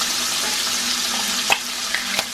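Bacon frying in a pan, a steady soft sizzle throughout with a few sharp pops and utensil taps near the end.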